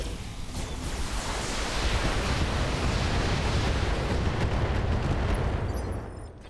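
Mech weapons firing in the video game Battletech, a dense, loud barrage of blasts and explosions merging into a continuous roaring rumble that fades slightly at the end, with no talking.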